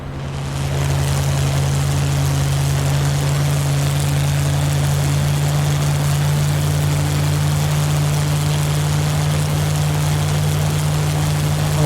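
Inside a War Thunder propeller fighter with the cockpit open and prop pitch set full, the engine drones loud and steady. A deep constant hum and rushing wind fill the cabin.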